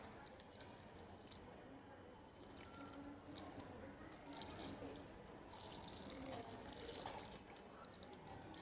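Water pours onto potted plants on a rooftop, making a steady, close splashing and trickling that runs without a break through the whole stretch, slightly louder toward the end.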